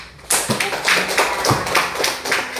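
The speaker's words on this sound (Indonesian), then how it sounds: "tepuk tangan semua" A classroom of students claps together at a teacher's request during a science lesson, a dense burst of many hands starting abruptly and continuing steadily for a couple of seconds, with rhythmic peaks as the applause settles into a loose shared beat.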